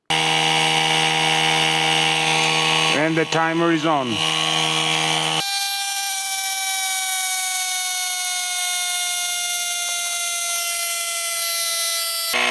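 HOTO compact cordless rechargeable air pump running steadily as it inflates a tire, a loud continuous motor drone with a brief voice over it early on, then the pump hum alone to the end.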